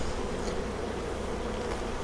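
Dense, steady buzzing of honeybees crowding an open beehive as frames and the excluder are handled, a close, continuous drone with no voices over it.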